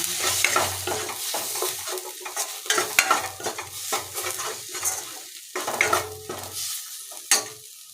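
Metal utensil scraping and stirring thick masala for egg curry in a frying pan, with repeated strokes over a low sizzle, close and fairly loud.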